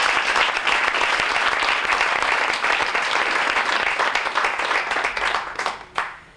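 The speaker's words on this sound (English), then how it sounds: "Yeah, I think we should applaud you." Audience applause for a university honoree at an academic speech event, dense steady clapping from a large crowd that swells, then tapers off sharply near the end.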